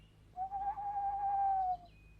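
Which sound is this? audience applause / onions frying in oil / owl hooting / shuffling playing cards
owl hooting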